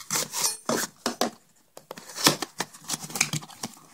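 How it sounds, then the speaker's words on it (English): Package being cut open, with a run of close, dry rasping, scraping and rustling strokes of blade through cardboard and plastic wrap, irregular and fairly loud, briefly pausing midway before resuming. "Let's cut this open."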